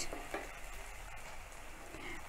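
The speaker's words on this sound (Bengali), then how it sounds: "আমাদের মশলাটা কষানো হচ্ছে" Spice paste for chicken sautéing in a pan gives a soft, steady sizzle and crackle, faint and continuous with no voices.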